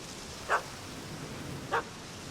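A dog in the Witcher 3 video game barks twice at a cat, two short, faint yelps spaced about a second apart over a quiet background hum.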